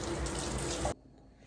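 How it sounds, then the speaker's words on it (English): A kitchen faucet runs steadily into a sink as hands are washed, a loud continuous water rush that cuts off abruptly near the end, leaving quiet room tone. "I gotta wash my hands."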